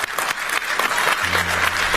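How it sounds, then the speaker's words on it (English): An audience claps in a dense, steady burst of applause that fills the full two seconds at close range, with a low hum entering partway through. "I thought maybe the audience was clapping for her, not for him"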